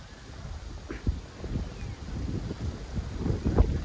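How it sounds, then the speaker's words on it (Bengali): Steady strong wind rushing and buffeting against the microphone outdoors at Bhatiary, with low rumbling gusts and a few soft thumps, no talking. "তো অনেক ভালোই লাগতেছে, অনেক বাতাস এখানে।"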